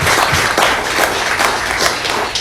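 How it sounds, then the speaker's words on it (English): Audience applause at a live panel event with a podcast host, steady dense clapping filling the room throughout, loud and close, with no talk over it. "let's give yourself a warm round of applause for being here."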